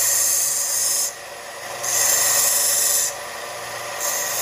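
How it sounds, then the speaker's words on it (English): A belt sander grinds a silver jewelry inlay piece, a loud continuous abrasive rasp that swells and eases in pulses as the work is pressed to the warm belt and lifted. "Your sander can be very aggressive. Depends on how warm your belt is."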